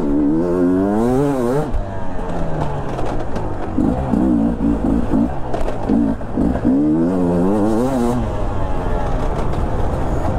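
A 2022 Beta 250 RR two-stroke enduro motorcycle being ridden hard, its engine loud and close as it revs up and down in repeated rising and falling sweeps, with brief steadier stretches between throttle blips.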